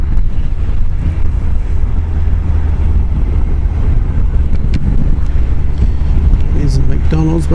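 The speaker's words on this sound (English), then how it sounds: "So it's a little bit windy here." Strong, steady wind buffeting the microphone with a constant low roar, continuous throughout and loud.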